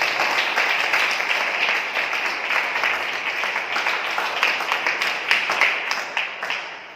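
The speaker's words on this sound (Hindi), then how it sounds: "जुड़े लोगों का हम जोरदार तालियों से स्वागत करें।" Sustained applause from a church congregation at a spiritual assembly, steady dense clapping throughout with no voices over it.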